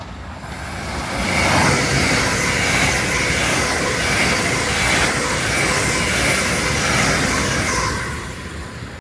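A TransPennine Express train runs on the East Coast Main Line from Thirsk toward Northallerton, heard from on board as a loud, continuous rolling rumble and wheel noise that swells and holds steady before easing off at the end.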